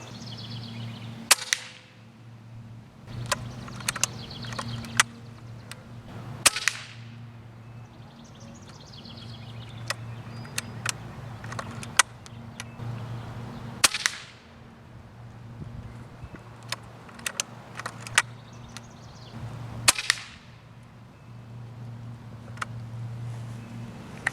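Shots from a Hatsan Bullboss .25 caliber air rifle come as a series of sharp, brief cracks at irregular intervals over a steady low hum, with no voices.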